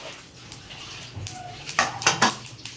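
A metal spoon stirs dry vegetable sabzi tempered in hot oil, giving a few close clinks and scrapes against the pan that bunch up toward the end, over only a faint background sizzle.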